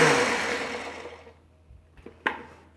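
A small Ninja blender whirs through a chocolate peanut butter smoothie, its loud motor whine winding down and fading out, followed by a few soft clunks and taps.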